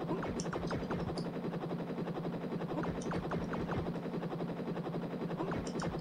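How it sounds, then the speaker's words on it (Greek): Helicopter in the Amiga game Rubicon, a steady chopping rotor drone with a low hum, overlaid by repeated sharp game gunfire bursts and clicks, loud and continuous. "Ελικόπτερο."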